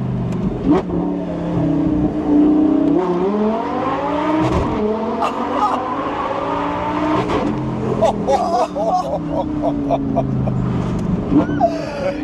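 A Lamborghini Gallardo Superleggera engine revs hard and accelerates through rising pitch sweeps, loud and close, with gear changes between pulls and voices underneath.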